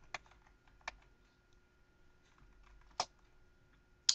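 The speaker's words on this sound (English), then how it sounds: "So I'm going to type that in." A few sparse keystrokes on a computer keyboard enter a password, four separate sharp clicks spaced unevenly over a few seconds against a quiet background hum.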